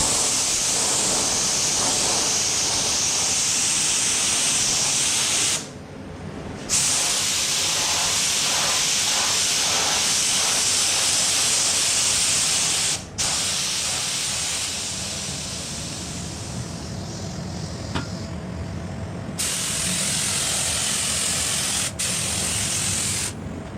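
Spray gun applying base coat to Lambretta scooter bodywork, a loud continuous hiss broken by a few brief pauses between passes, with faint mechanical clicks.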